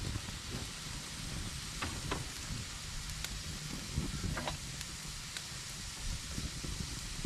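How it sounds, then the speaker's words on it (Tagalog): Broad steady bubbling and hissing of a pot of soup with string beans, ginger and garlic boiling away on the stove, close and continuous, with a few faint clicks and no talk. "Bala yan po, nakulo na po oh"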